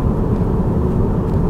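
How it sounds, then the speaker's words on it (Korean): BMW 530i xDrive M Sport in S mode under full-throttle acceleration, heard as a loud, steady, dense low engine roar that holds without a break. "변속기 좌측으로 밀어서 S 모드 상태에서 가속 페달만 전개해서 테스트를"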